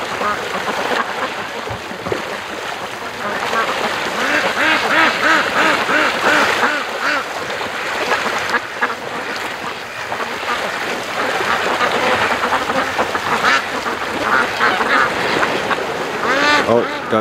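A large flock of ducks quacks loudly and continuously near a creek mouth as a dog named Doug drives them along, with a person talking briefly over the dense, overlapping calls.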